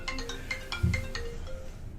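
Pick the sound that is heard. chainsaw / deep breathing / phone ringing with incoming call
phone ringing with incoming call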